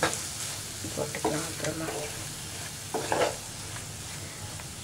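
Cauliflower poriyal with green chillies is stirred as it fries in a pan, a steady sizzle with bursts of scraping and tossing, up close, under a brief spoken remark.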